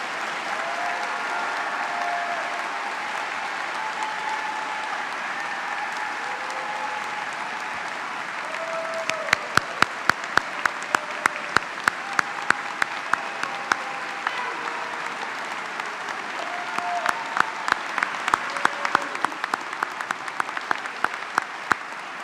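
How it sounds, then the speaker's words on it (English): A commencement audience applauds the graduating class of 2020 at a university ceremony, a steady roar of clapping that swells in the second half as sharper individual claps cut through close by. "Let's give the class of 2020 a round of applause."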